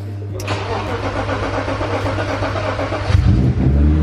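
A BMW E36 328i convertible, parked unused for a year, cranks and then catches, settling into a loud, close, steady idle with a small surge near the end.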